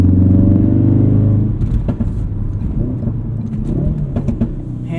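A modified Ford Performance Focus RS turbocharged engine pulls hard while driving, heard from inside the cabin: a loud droning rumble that rises, then shifts down into rougher, uneven engine and road noise, with no talk.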